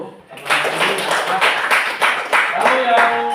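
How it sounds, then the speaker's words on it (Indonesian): Classroom of students clapping together, a bright burst of hands that continues for several seconds, close and loud, with voices and chatter mixed in. "Kita berikan tepuk tangan dulu."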